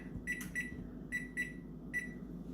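A kitchen timer being set for baking apple pie bread, giving a series of short, high electronic beeps in irregular pairs and singles, close and fairly quiet, with no talking.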